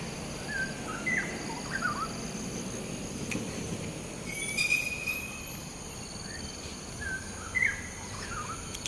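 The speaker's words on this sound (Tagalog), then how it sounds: "Maririnig mo dito sa kabila naman ay mga ibon." Birds chirping near a road in Bukit Batok, Singapore: short bright tweets recur every couple of seconds over a steady wash of background traffic and outdoor noise, with no talk.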